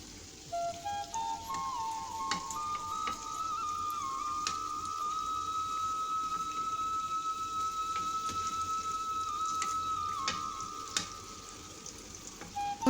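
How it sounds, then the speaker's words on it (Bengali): Singara deep-frying in hot oil, Bengali style: a steady, gentle bubbling sizzle like light rain, with a thin high whistling tone running over it, continuous and close. "সিঙ্গারাগুলো আমার ভাজা হয়ে গেছে"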